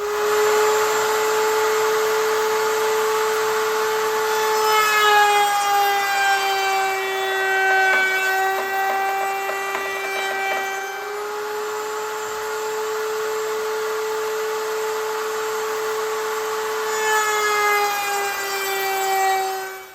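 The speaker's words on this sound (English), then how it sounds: "We set up a quarter round on our router and our fence to keep the pieces in place." Wood router with a quarter-round bit and fence cutting a profile on pieces for an outdoor side table, a loud continuous high whine with shifting pitch as the wood is fed through, lasting the whole stretch.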